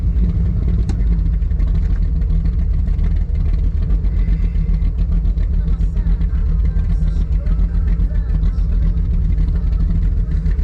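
A 26ft Baja Outlaw boat's engine runs steadily during a ride, a loud continuous low rumble with constant wind and water noise close by and no clear talk.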